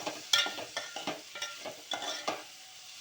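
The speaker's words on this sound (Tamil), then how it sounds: "இறாலை போட்டு நல்லா வதக்கிட்டோம்னா நல்லா வாசனையாக இருக்கும்." Prawns being stir-fried with tomato in a pan for a home-cooked curry, a close sizzle broken by rhythmic scraping and stirring strokes, loud then easing off, with no talking.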